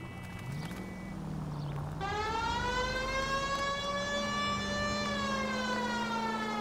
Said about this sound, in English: We're gonna turn on the sirens for this one